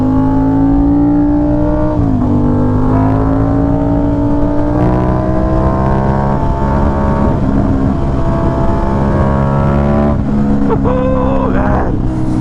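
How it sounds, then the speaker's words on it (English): Aprilia RS660 motorcycle engine while riding, a loud steady buzzing drone with strong harmonics that dips and rises as gears change, with wind rush throughout. "It's definitely a very unique sounding bike."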